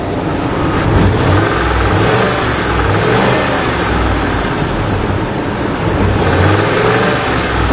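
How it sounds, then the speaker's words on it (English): A 2002 Ford engine revs up and falls back repeatedly, loud and close, with smooth rising and settling pulls of the throttle and no stumble. "The engine responds absolutely perfectly now."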